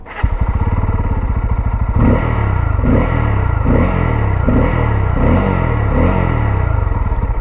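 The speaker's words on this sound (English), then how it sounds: "So let's hear the exhaust sound." A Bajaj Pulsar F250 motorcycle idles with a bassy exhaust burble close by, then revs in about six evenly spaced throttle blips, each a loud rising roar that drops back to idle, with no talking.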